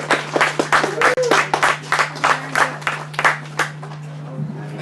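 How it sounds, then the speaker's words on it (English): Applause for a man showing off his big pumpkin at an outdoor weigh-in: a small group claps in sharp, scattered bursts, close and fairly loud, with voices mixed in and a steady low hum underneath. "Give the guy a round of applause."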